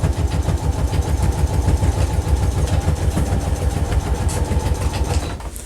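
Sewing machine stitching the top edge of a handmade duffle bag, a loud, fast, even mechanical chatter of the needle running continuously close by, slowing slightly toward the end.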